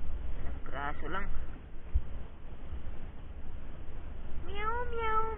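A cat meows a few times, with a voice heard early on and steady low background noise throughout.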